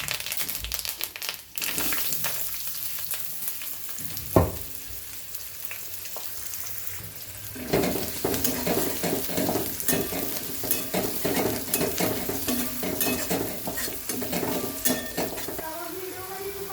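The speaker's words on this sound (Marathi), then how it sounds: "इथे कांदा छान परतून झालाय" Onion with cumin and spices fries in oil in a pan, a continuous sizzle under repeated spatula scrapes, metal clinks and some rustling handling noises, louder and busier in the second half, without speech.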